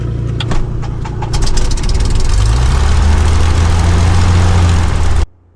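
A Cessna 172 light aircraft engine cranks and catches, its pitch climbing before it settles into a loud, steady idle close by. The sound cuts off abruptly near the end.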